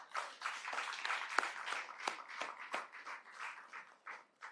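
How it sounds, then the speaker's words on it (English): An audience at a land title handing-over ceremony in Naseberry Villa gives a round of applause. The clapping is dense and sustained but fairly soft, rising and dipping for several seconds. "They deserve a big round of applause."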